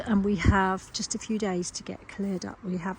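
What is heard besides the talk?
No everyday noise stands out behind the speech.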